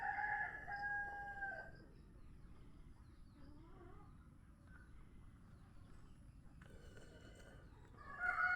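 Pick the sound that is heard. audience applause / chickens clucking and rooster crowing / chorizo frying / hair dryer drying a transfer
chickens clucking and rooster crowing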